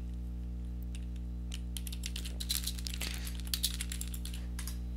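Quick bursts of keystrokes on a computer keyboard as a search is typed, light irregular clicking over a steady low electrical hum, close and fairly quiet.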